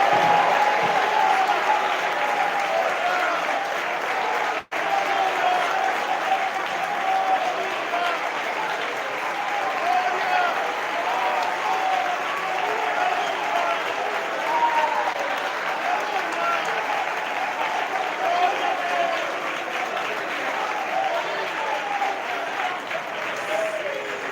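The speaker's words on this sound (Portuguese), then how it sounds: "Vamos lá, uma salva de palmas bem bonita para Jesus." A church congregation gives sustained applause for Jesus during a sermon, dense steady clapping filling the room for over twenty seconds with one brief dropout, crowd voices blended underneath.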